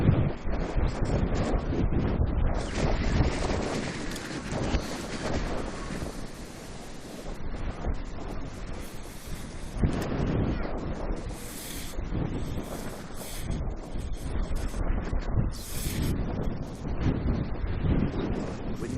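Strong gusting wind buffets the microphone at an airport, making a loud, continuous rumbling roar that surges and eases over nearly twenty seconds, with no talk.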